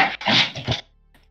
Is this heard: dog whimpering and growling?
yes